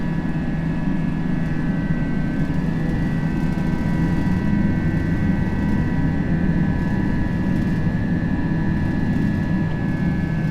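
Simulated Airbus A320 jet climbing out of Melbourne after takeoff in a flight simulator, a constant loud engine roar with a steady tonal whine, no pauses throughout.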